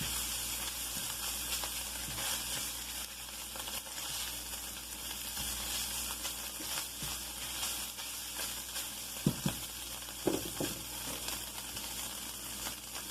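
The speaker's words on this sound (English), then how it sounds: "Our fish is getting nice and crispy." Cod fillets fry in butter in a pan, giving a steady, close sizzle with a soft hiss that runs the whole time, plus a few brief clinks near the end.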